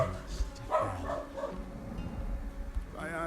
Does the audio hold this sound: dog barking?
yes